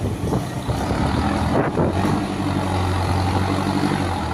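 A truck idles steadily while cotton seeds are loaded, its low engine rumble constant and fairly loud throughout, with faint background activity and no speech.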